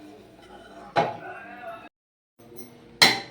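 A metal kadai is set down on a kitchen stove while sherva is being prepared, with two sharp metallic clanks about two seconds apart, each standing out against a low, quiet background.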